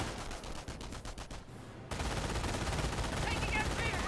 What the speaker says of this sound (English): Got these forces getting suppressed by the MG42.